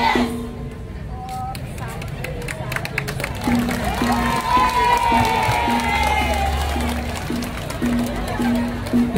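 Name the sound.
crowd applauding and cheering at Balinese dance performance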